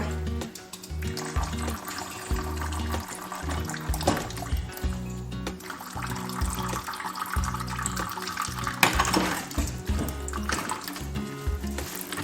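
Green coolant drains from a removed front heater on a school bus and runs in a continuous splashing, trickling flow with gurgling surges, close by and fairly loud.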